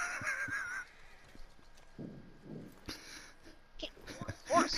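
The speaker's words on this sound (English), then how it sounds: "I just told your horse to flee." A horse in the video game Red Dead Online gives a faint whinny early on, followed by soft hoof clip-clops and snorting amid quiet game sounds and brief noises.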